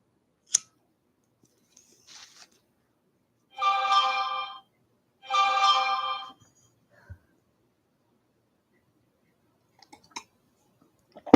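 A phone rings in two long electronic bursts separated by a short pause, loud and close in an otherwise quiet room, with a few small clicks and taps around it and no talking.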